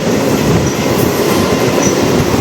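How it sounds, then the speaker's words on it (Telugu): Garudadri Express rolling out of Puttur station, a steady loud rumble of wagons on rails with faint wheel clatter, continuous and close, no voices. "2 minutes తర్వాత మన ట్రైన్ అయితే స్టార్ట్ అయిపోయింది ఇక్కడ నుంచి"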